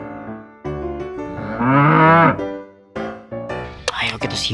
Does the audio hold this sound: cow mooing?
yes